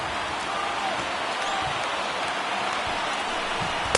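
Stadium crowd at a Pirates at St. Louis ballgame in MLB 19 The Show, over 39,000 fans on their feet before a final strike, roaring as a steady, dense wash of cheering with no breaks.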